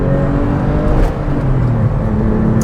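A Porsche 912 engine revs hard toward 7,000 rpm, a loud steady sustained engine roar with a constant pitch and no speech over it.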